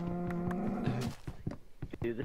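A cow moos in a survival video game, one drawn-out low moo that comes close and loud and then fades into a few short knocks and noises.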